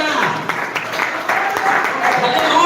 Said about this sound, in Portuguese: Bate as palmas para Jesus.